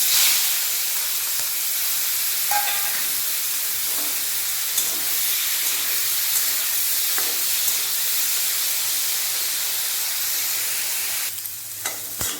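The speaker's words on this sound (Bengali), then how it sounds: "এরপর চিংড়ি মাছগুলো ভেজে নেব" Prawns frying in hot oil in a wok, giving a loud, steady, continuous sizzle and hiss that fills the whole stretch, with a brief clatter near the end.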